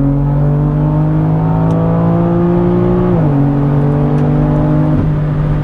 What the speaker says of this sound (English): if I step on it, hopefully we get a little bit more engine sound